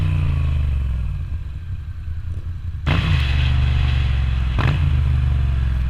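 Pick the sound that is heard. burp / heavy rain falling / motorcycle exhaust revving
motorcycle exhaust revving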